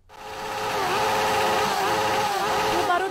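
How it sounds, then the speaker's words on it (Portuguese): Motorcycle and supermoto engines at a motorcycle rally on an avenue in Paulo Afonso drone steadily with wavering revs, fairly close, while a voice talks over them. "O barulho do motor e a supermoto bem no início da avenida já dizem tudo."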